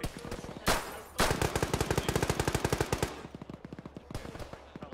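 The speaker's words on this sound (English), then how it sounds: "Shoot this window out." Rapid automatic gunfire from the video game Arma shoots out a window, bursts of sharp shots rattling fast and evenly, then thinning to spaced single rounds, with no talk.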